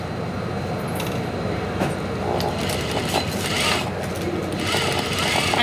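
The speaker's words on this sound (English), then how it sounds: "I'm going to sew regular stitch length" A sewing machine runs at a steady regular stitch length, sewing gathers on a shirt, a close continuous mechanical rattle that holds for several seconds.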